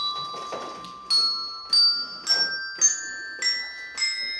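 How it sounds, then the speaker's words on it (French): Bells ring out in a series of about seven clear, bright strikes at a steady pace, each tone lingering and ringing on, close and fairly loud against a quiet background. "Et alors enfin, les cloches."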